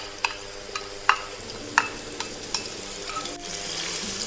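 Garlic, ginger and spring onion are stir-fried in hot oil for a Hunan-style tofu dish, with a steady close sizzle broken by several sharp utensil clicks against the pan. No speech.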